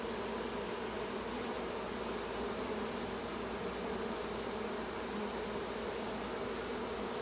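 Honeybees in a mating swarm hum steadily around a yard, a dense continuous buzz of many insects that holds at an even level throughout, with no voices.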